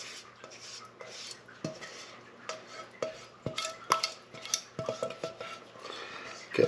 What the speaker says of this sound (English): I'll just get the last bit of the sauce